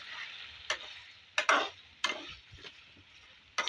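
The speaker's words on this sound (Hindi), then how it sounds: "हम इसमें टमाटर ऐड करेंगे। मिक्स कर लेंगे अच्छे तरीके से।" Tomatoes being stirred into chicken koyla karahi, with four or five sharp spatula strokes against the pot spaced over a faint sizzle, close and with no speech.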